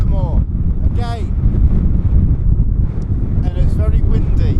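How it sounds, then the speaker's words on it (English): Strong wind on Dartmoor roars and buffets the microphone in a steady low rumble throughout, with a person talking briefly over it. "it's very windy."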